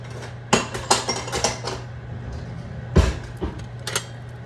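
A spoon clanks and scrapes against a cooking pot while green lentils are stirred into a lentil soup, a quick series of sharp metallic knocks, then a pause and a few more taps, close and fairly loud with no talking.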